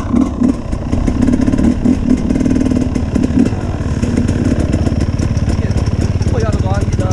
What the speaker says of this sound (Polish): trzeba grzać na motor